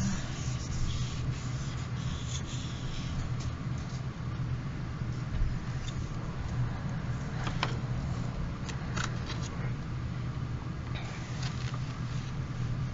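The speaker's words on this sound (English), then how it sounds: "Let me just get rid of some of my dry erase marker here." Dry erase marker wiped off a whiteboard, a continuous soft rubbing swish over steady low background hum, with a few light squeaks.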